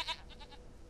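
Goat bleating in The Witcher 3: Wild Hunt, a brief faint bleat followed by a few softer wavering pulses, alone without talk.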